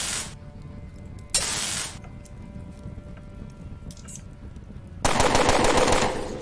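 Automatic gunfire from a turn-based combat encounter in the video game UnderRail, two loud broadband bursts of rapid shots separated by a quieter stretch of game ambience.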